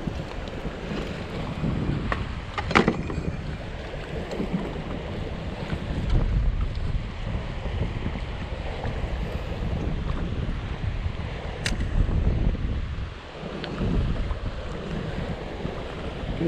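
Strong wind gusts across open sea during kayak fishing, a steady, loud rushing roar with rough buffeting on the microphone that swells and eases over time, with water sloshing underneath and no talking.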